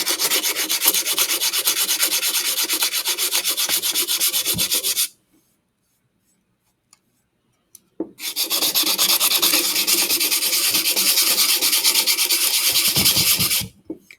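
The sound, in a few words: sanding wood with sandpaper to remove grooves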